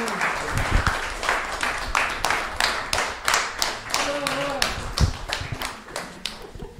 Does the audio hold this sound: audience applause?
yes